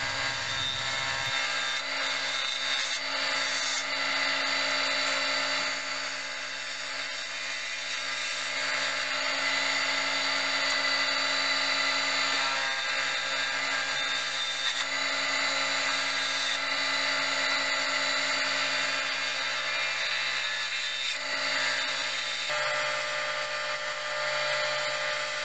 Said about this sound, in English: And then I switched to a bowl gouge for the majority of the rest of the project.